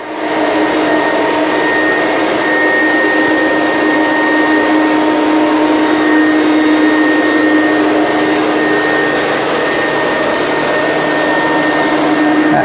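A vacuum cleaner hard floor tool with a spinning brush runs in a loud, steady whine and roar that holds constant from start to finish, up close and alone.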